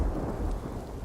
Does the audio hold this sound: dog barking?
no